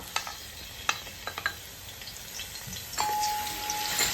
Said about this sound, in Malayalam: ഇനി നമുക്ക് ഈ എണ്ണയിലോട്ട് വെളുത്തുള്ളി ഇട്ട് കൊടുക്കാം